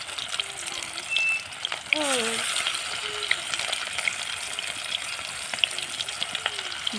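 Chicken pieces frying in hot oil in a pan, giving a continuous close sizzle that swells as more pieces go in, with voices talking over it.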